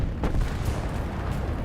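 A tank gun firing in War Thunder near an M4A3 tank, a single deep boom at the start followed by a rumbling, fading tail.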